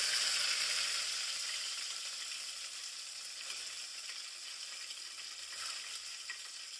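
Mustard seeds crackling in hot oil for tempering kadhi, heard as a steady, moderately loud hiss of frying with fine popping texture and no voices.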